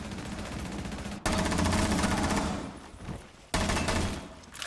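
Gunfire in the tactical shooter video game Rainbow Six Siege: two loud bursts of rapid automatic fire, the first lasting about two seconds and the second starting near the end, over a constant background hum.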